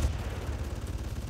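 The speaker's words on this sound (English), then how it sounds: "Who is non-stop shooting at me?" Rapid gunfire in the shooter game Far Cry rattles in a fast, continuous stutter of low, muffled thumps, steady and moderately faint with no talk.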